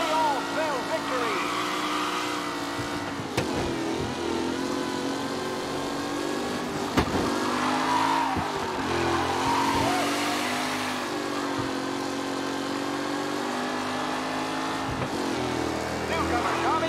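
Period race cars roar around a 1932 track in Mafia Definitive Edition, a steady engine drone under near-constant commentary, with brief surges as cars pass close.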